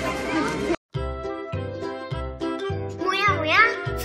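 A person voices a string of about six short, nasal meows in imitation of a cat, evenly spaced with brief pauses, close and clear, with a light jingle in the background.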